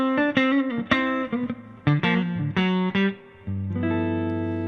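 An electric guitar played straight into a Koch amplifier with no effects gives a clean, close run of picked single notes and short bends, ending on a sustained, ringing note.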